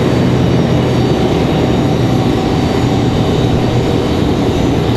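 An Icelandair Boeing 737 MAX 9 jet rolls at Raleigh-Durham International Airport. Its engines give a loud, steady, broadband roar that holds constant throughout the clip.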